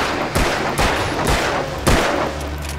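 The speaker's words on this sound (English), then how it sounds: "let's shoot this guy in his helmet" Gunshots ring out in the Alan Wake video game, several loud, sharp cracks spaced irregularly over a rumbling background.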